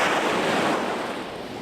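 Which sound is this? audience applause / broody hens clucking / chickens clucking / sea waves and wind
sea waves and wind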